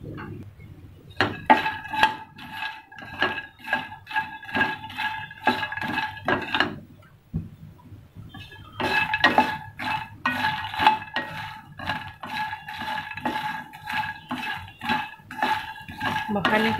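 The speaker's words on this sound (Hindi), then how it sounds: "इसको बिना ऑयल बिना उसके घी के हम इसको ड्राई रोस्ट करेंगे" Makhana (fox nuts) dry roasting in a pan without oil or ghee, with steady rattling, scraping and clinking of the utensil against the pan in two long bursts split by a brief pause.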